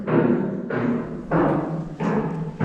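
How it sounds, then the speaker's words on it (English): A loudspeaker inside an old workhouse gives off four repeated bursts of broadband hiss or rumble, each about half a second long, close and fairly loud in an echoing room. "That noise you can hear is a speaker."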